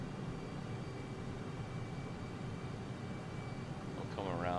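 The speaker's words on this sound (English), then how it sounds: "Alright, I'm going to pull back the throttle here." A simulated aircraft engine drones at a steady roar in a flight simulator as the throttle is pulled back, with a voice coming in briefly at the end.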